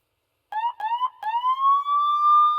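A police siren mounted on a Porsche 911 in Euro Truck Simulator 2 starts with a few short yelps, then rises into one long, steady wail, loud and close with nothing else around it.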